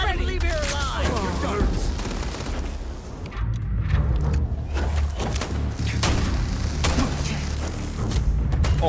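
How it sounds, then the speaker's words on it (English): A laser gun fires during a Starfield firefight, mixed into dense, loud battle noise with heavy thumps and booms across the whole stretch, plus some voice underneath. "Oh my gosh, he's got a laser gun."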